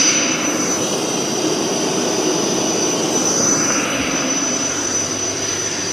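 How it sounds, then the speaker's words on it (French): A laser cutter running a marquetry cut gives a steady, loud whooshing whine with airflow noise and a high tonal hum, unbroken for the whole stretch with no talk. "Maintenant, on n'a plus qu'à démarrer et à lancer notre découpe en temps réel."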